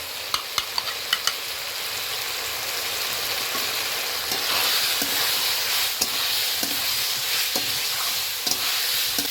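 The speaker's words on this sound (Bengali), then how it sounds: "মশলার সঙ্গে খুব সুন্দরভাবে কষিয়ে নিয়েছি আলু এবং উলকপি" Kohlrabi and potato pieces fry in a pan with ground coriander, turmeric and salt, giving a loud continuous sizzle. Sharp clicks of a spoon or spatula stirring and scraping the pan come at irregular intervals, with no talking.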